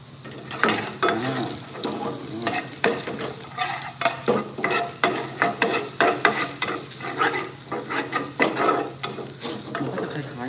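A Thai omelette with unminced pork frying in hot oil, crackling and sizzling loudly with rapid, ratchety spatula scrapes and pokes repeating throughout.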